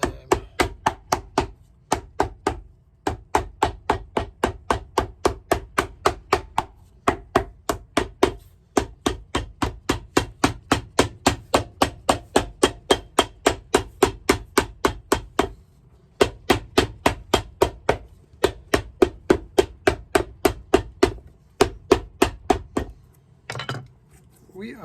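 Dense, rhythmic hammer strikes on a boot being converted from stitch-down to Goodyear welt construction repeat steadily for about twenty seconds in bursts, hitting hard over and over, with brief pauses between runs.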